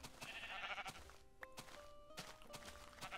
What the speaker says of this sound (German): Schafe, da sind Schafe.